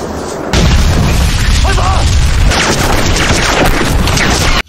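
A bomb goes off during a battle scene in a martial-arts film: a very loud, sustained roaring blast starts abruptly and fills several seconds before cutting off sharply.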